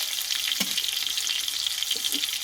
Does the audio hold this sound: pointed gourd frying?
yes